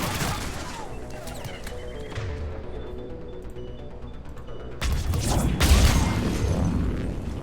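Video game gunfire in a battle against an enemy turret and engineer, a rattling spray of shots with mechanical clatter that quiets briefly, then erupts into a louder, closer fusillade, with faint voices underneath.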